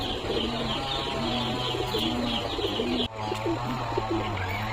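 Pigeons coo repeatedly in a loft, a steady layered cooing from several birds close by, with soft chirps and a brief flutter of wings near the end.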